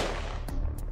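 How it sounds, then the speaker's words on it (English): Two sharp gunshot cracks, close and loud, ring out within a second over a dense rumbling background during an SAS team's room-clearing raid on a compound. "They are met with gunfire."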